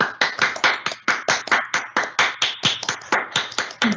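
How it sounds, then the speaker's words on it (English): Steady applause from an audience welcoming a pharmacy graduating class at a white coat ceremony, with dense rhythmic clapping bursts repeating throughout, fairly close and loud, with no talking. "join me in a round of applause to give congratulations and a welcome to the class of 2024 to the pharmacy profession"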